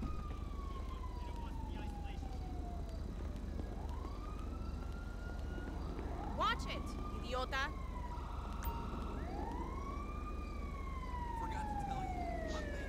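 Emergency vehicle sirens in GTA V wail and sweep in rising and falling tones over steady traffic and engine rumble, moderately distant, with a brief yelp pattern midway and a voice shouting once.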